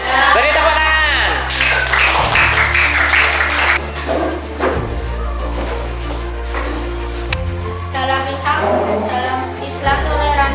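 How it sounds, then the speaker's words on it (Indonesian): Children in an Indonesian classroom clap together for about ten seconds, a busy, close patter of hand claps mixed with young voices and chatter, with a low hum running underneath. "Beri tepuk tangan."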